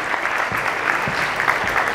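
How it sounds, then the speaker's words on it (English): An audience at the 2018 Subiendo Academy keynote gives steady, dense applause for two seconds, a continuous wash of many clapping hands with no talk over it. "let's give Luis a round of applause as he comes and introduces our speaker"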